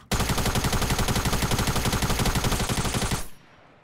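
Sustained automatic gunfire in a Fortnite match, a fast even rattle of shots lasting about three seconds, loud and close, then cutting off abruptly into quiet.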